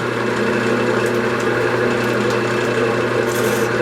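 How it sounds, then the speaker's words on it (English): A skew chisel scrapes a green poplar bowl spinning on a wood lathe, a loud, continuous whirring drone with a fine scraping texture and no talk. "I'm just going to start scraping this up a little bit with my skew"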